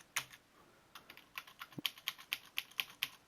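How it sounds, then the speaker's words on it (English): Keys on a computer keyboard are pressed in a loose series of sharp clicks, sparse at first and then settling into a steady, evenly spaced tapping, close and fairly quiet with no talk. "Press some keys."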